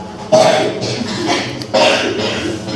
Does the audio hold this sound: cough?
yes